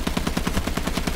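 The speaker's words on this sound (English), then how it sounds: "the flak's getting closer to me" Rapid anti-aircraft flak fire in Battlefield 1, a steady string of evenly spaced heavy bursts about ten per second, loud and continuous with a deep booming low end.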